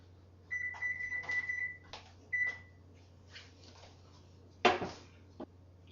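Oven control beeps while preheating to 375 degrees for gluten free bread: a long steady tone, a shorter second beep, then a few faint clicks and a sharp clunk near the end.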